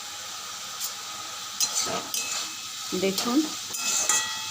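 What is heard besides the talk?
banana stem (thor) frying on low gas flame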